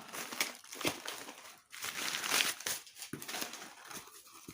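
Packing paper crumpled and rustled by hand while a box of vintage glass perfume bottles is unpacked, a close series of crinkling bursts with brief pauses, no talking.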